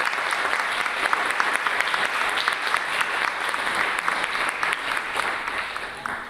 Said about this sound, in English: A huge round of applause for all the panelists.